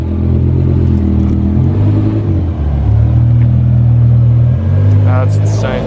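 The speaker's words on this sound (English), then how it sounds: "That is the best sounding car that I've ever been in" A BMW E63 M6's V10 engine heard from inside the car, its deep, loud tone rising and falling through several revs, with voices faintly present.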